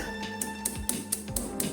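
Light, evenly spaced metallic taps on a bolt fitting into a soundbar wall bracket, about six clicks in quick rhythm over a faint steady hum, close and fairly quiet.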